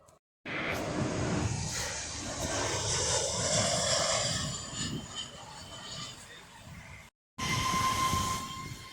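Busy airport terminal ambience, a dense, steady wash of crowd murmur and rumble with distant mechanical hum, briefly cutting out near the start and again near the end.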